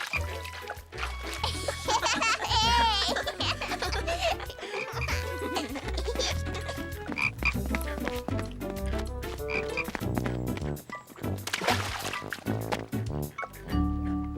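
Frogs croak in a cartoon pond over a bed of music, the croaks mixing with light watery trickling and dripping sounds throughout.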